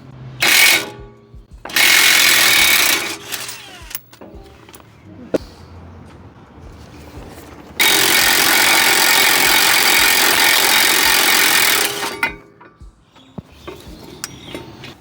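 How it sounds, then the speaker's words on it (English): An impact wrench (rattle gun) works brake caliper bolts on a 2022 Ford Ranger, firing in two loud hammering bursts, a short one early and a longer sustained run midway, with quiet gaps and small clinks between. "if you don't have a huge breaker bar, you're going to need a rattle gun"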